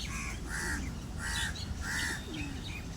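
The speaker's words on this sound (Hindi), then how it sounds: "देखिए सारी चिड़िया आ गए" Crows cawing in a park where birds gather, three harsh calls in a steady rhythm with smaller birds chirping around them over a low background rumble.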